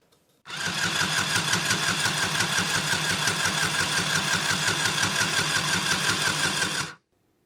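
A Singer Stitch Quick handheld mini sewing machine runs in one continuous burst of about six and a half seconds, a loud, even, rapid mechanical buzz of stitching that starts and stops abruptly, with no talk.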